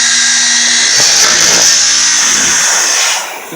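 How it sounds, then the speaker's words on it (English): A power drill whines loudly and steadily for a few seconds, then winds down as it finishes boring a hole through a panel. "And then we can drill the hole."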